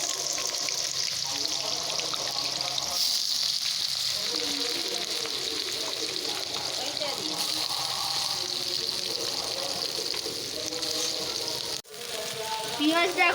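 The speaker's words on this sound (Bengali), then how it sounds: "পেঁয়াজটা এখন ভাজা হচ্ছে।" Sliced onions frying in oil in a wok for biryani, a steady broad sizzle running throughout at moderate level with a brief dip near the end.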